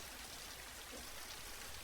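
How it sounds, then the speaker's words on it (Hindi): Heavy rain falls outside in a steady, dense, even hiss with no breaks, faint and with no voices over it. "वो देखते हैं कि बाहर काफी तेज बारिश हो रही है।"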